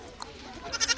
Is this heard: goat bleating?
yes